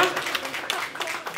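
An audience at a song and music video launch event applauds, a brief burst of dense, close clapping with scattered louder claps.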